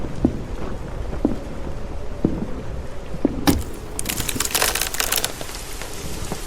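A wild storm for a sea-voyage audio drama, with steady rain pattering throughout and a few sharp cracks, then a loud burst of thunder crashing and rumbling through the second half.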